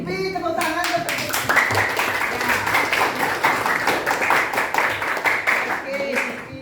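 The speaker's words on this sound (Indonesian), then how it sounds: "tepuk tangan untuk Pipi" Classroom group applauding a student named Pipi during a teaching practice session, a dense burst of many hands clapping together for several seconds, with a few children's voices calling out beneath it.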